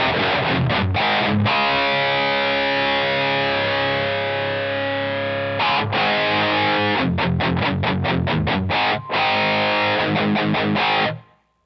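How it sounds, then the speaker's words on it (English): Electric guitar played through a Digitech DF-7 distortion pedal set for its least nasal tone: loud, saturated chords ring out, then a long sustained chord gives way to a quick run of choppy, muted stabs before cutting off. "This is the least nasally I can make the DF-7 sound."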